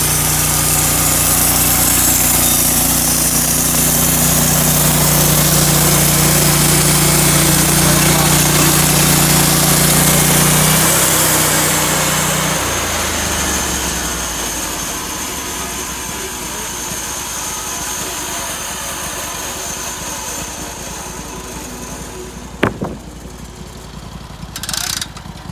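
Portable sawmill engine running hard while cutting yellow poplar logs, a loud steady drone that slows and winds down partway through, followed by quieter background noise and a couple of brief knocks.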